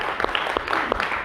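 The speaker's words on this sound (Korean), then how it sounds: "우리 함께 하나님 기광의 박수를 드립니다" Congregation applauding during a Sunday church service, a dense steady clapping with sharp individual claps standing out, fairly close and continuous throughout.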